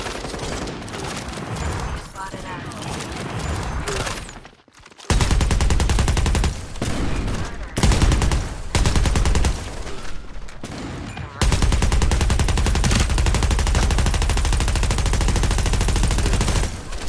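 Loud, sustained automatic gunfire in the FragPunk shooter game, with long rapid-fire bursts broken by a few brief pauses, close and dense throughout.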